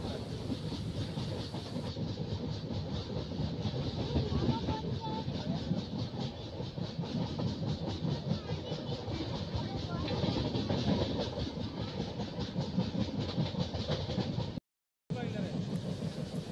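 Passenger train rolling steadily toward Prayagraj, a continuous loud rumble with rhythmic clickety-clack of wheels on rail joints heard from inside the carriage, unbroken except for a brief dropout near the end.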